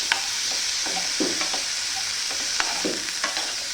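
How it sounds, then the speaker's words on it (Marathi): Potatoes and fresh coriander are stirred in a hot pan. A constant sizzle runs under repeated scraping strokes of the spatula, close by, with no voices. "आता बटाटे कोथिंबीर एकदम टाकून देतो. ते पण चांगलं मिक्स करून देतो."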